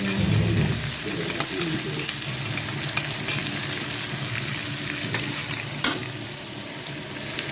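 Spice paste for egg curry sautéing in a pan with a steady, dense sizzle throughout, close by, while occasional sharp scrapes and taps of a stirring spoon stand out above it.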